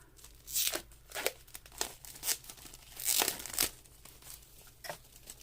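A package of note cards is torn open, with crinkly bursts of ripping paper or plastic coming in uneven pulses, close up and fairly quiet.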